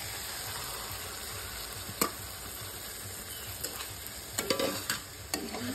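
Washed leftover rice tossed with vegetables in a pan, a faint, steady sizzle with a few sharp spoon-and-pan knocks and scrapes growing more frequent toward the end.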